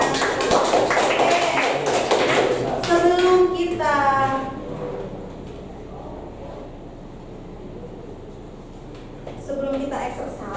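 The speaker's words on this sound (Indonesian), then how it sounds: "Yuk, tepuk tangan buat teman ya." A primary school class applauds a classmate, a brief burst of scattered hand clapping in a classroom, followed by voices speaking.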